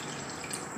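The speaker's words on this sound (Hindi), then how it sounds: "और एक कप या मैं यहाँ पे पानी डाल रही हूँ" Water poured from a cup into a kadhai holding soaked sabudana for a fasting sabudana-makhana kheer, a close, steady splashing trickle lasting the whole moment with no talk.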